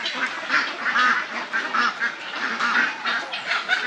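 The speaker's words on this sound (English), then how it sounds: "These are the ducks." Ducks on a Jamaican animal farm quack steadily and loudly, a dense overlapping chorus of many birds close by with no talking.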